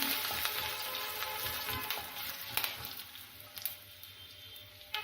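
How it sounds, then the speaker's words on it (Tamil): Garlic cloves and a sprig of curry leaves sauté in a pan, giving a continuous moderate sizzle with scattered soft pops and stirring scrapes, close by and without speech. "பூண்டு சேர்த்துக்கலாம். கூடவே ஒரு கொத்து கருவேப்பிலை சேர்த்துக்கலாம். உண்டை லைட்டாக வதக்கி விட்டுக்கலாம்."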